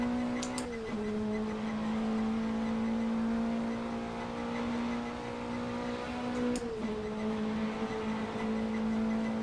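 A racing car in a VR sim racing game drones with a steady engine note that holds throughout, briefly dipping in pitch twice as gears shift, with no talk over it.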